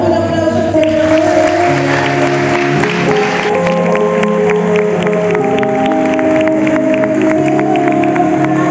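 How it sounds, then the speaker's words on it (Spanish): A church congregation at a special service applauds loudly, dense clapping over sustained musical tones from instruments, continuing strongly throughout. "Le damos un aplauso al Señor."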